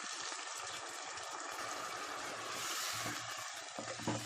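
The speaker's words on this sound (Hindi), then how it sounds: "इसे अच्छे से भूनने के बाद आधा कप पानी डाल दें।" Half a cup of water poured into meat frying over high flame with salt and turmeric, a steady broadband rush with sizzling, continuous and close throughout.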